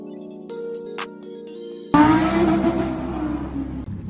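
A Lamborghini's engine bursts into a loud, rough roar after a short stretch of quiet tones. The revving stays strong for a couple of seconds before easing slightly.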